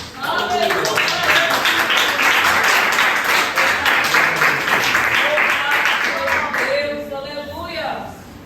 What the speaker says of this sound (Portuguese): Glória a Deus, palmas para o nosso Deus